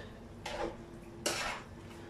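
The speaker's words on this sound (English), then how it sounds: "I'll use a fork. Give this a quick stir." A fork stirs something in a kitchen dish, two quick scraping, clinking strokes close by, the second a bit louder, over a quiet room hum.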